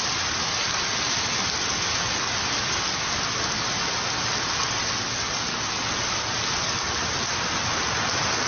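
Rain falls steadily, a dense, even hiss that stays constant and fairly loud throughout with no pauses and no talk.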